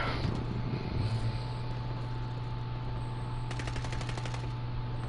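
Rapid gunfire bursts from a PlayStation 4 online shooter game, loud and continuous with a steady low electrical hum underneath, a denser crackling volley near the end and no talk over it.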